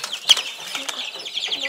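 A young rooster in a farmyard flaps its wings in a few brief, soft bursts, with faint clucking and people talking quietly nearby.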